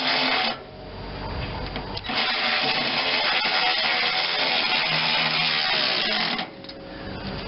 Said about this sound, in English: I've got to drill that hole down farther than it's right now